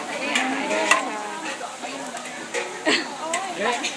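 Pork sizzles and a spatula scrapes around a hot iron wok during stir-frying with black pepper, while people talk over the cooking.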